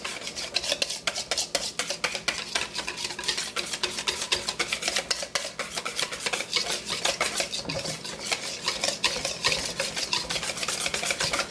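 A spoon stirs and scrapes through thick batter of buffalo sauce and garlic in a bowl, a steady run of close, rhythmic rubbing strokes with no talking.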